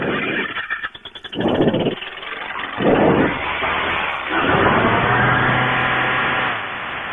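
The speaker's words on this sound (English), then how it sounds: "Starting up the engine." A Hadron XX engine cranks with a few uneven bursts, then catches and settles into a steady, loud idle nearby, with a rising whine before it drops off.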